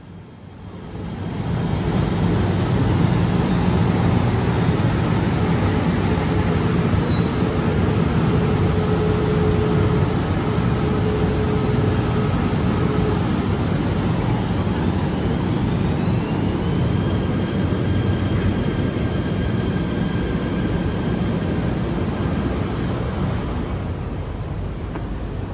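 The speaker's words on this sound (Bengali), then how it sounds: "আমাদের ট্রেনটা এবার ঢুকছে।" A six-coach commuter train bound for Batu Caves rolls into a station in Malaysia, a loud steady rumble and roar lasting many seconds, with faint tonal whines rising and falling as it slows.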